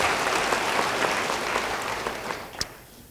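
Church congregation applauding during an Indonesian sermon, a steady crowd of clapping hands sustained for a few seconds before tapering off, with one sharp louder clap near the end.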